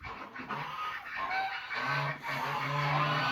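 Geese honking in a grassy village poultry pasture, several birds calling in overlapping nasal honks at moderate distance, with no talk.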